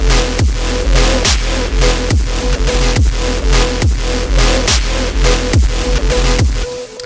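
Layered synth melody in FL Studio, one sample stacked with copies pitched a semitone higher, playing a loud repeating pattern over steady beat hits, alone without talk.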